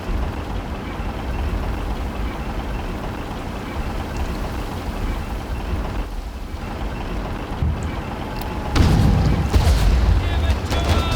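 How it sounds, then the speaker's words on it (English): Artillery fire in a World War I video game, a dense, loud rumbling barrage of distant booms with a sharper, heavier burst near the end. "Artillery right there."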